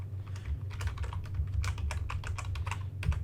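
Close-up typing on a computer keyboard while renaming a file, with a rapid, irregular run of crisp keystrokes that continues throughout and no voices.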